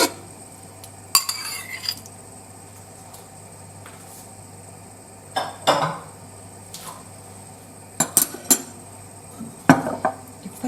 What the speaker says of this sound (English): just give that a bit of a stir and let that heat up through.